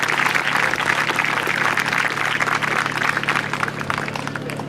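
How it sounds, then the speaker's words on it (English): Crowd applause at a youth baseball league closing ceremony, a steady wash of clapping from a large audience that holds even and fairly loud throughout, with a low hum running underneath. "So I want to give them a round of applause right now for doing that"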